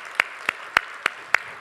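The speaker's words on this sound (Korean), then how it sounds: "우리 큰 박수로 환영하도록 하겠습니다" Congregation clapping at a church worship service to welcome a first-time visitor, heard as six sharp, evenly spaced claps in a quick, steady rhythm.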